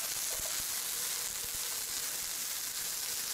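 Steady sizzling of loritos de liccha, a Peruvian fritter with cochayuyo seaweed, frying in hot oil, a constant crackling hiss with occasional soft pops.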